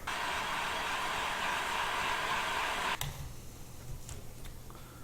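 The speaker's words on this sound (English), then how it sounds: "When these guys get stuck, I just use a heat gun." A heat gun warms stuck painted parts of a Vampire Hunter D sword prop, giving a steady, loud blowing roar for about three seconds that then cuts off, leaving a quiet room with faint ticks.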